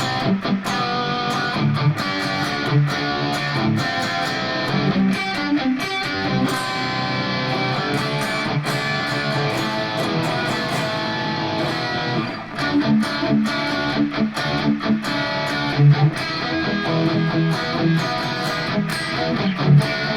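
Heavily distorted electric guitar rings out sustained suspended chords for a long, unbroken stretch, loud and full, with brief choppy accents.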